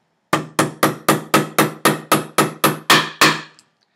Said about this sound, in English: Put the crimp in first. Go ahead and beat on it with your hammer.